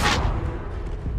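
The Incendio fire spell is cast in the video game Hogwarts Legacy, a loud, sharp burst of flame that fades quickly into a low rumble, heard close and alone.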